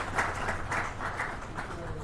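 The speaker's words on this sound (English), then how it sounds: "Please a round of applause for the CEO and MD" Applause from an audience at a chamber of commerce breakfast meeting as the CEO and MD is introduced, a soft, steady patter of many hands clapping at a distance throughout.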